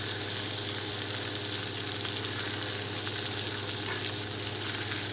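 Salmon fillet frying in a pan while butter is spooned over it, a steady, close, continuous sizzle that hisses evenly throughout with no voices.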